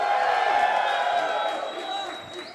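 A live crowd at a gaming founders event cheers and whoops in a continuous, roomy wash of voices that holds steady and then eases off slightly toward the end.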